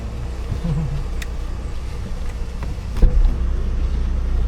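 Steady low engine and road rumble fills a car cabin while driving, with faint rattles and a brief bump near the three-second mark, no talk heard.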